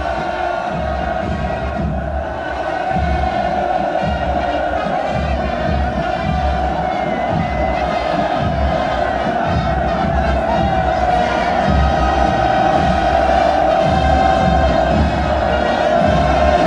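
A huge crowd at a North Korean military parade roars and cheers without pause, a loud, dense wall of massed voices chanting and shouting that swells slightly toward the end.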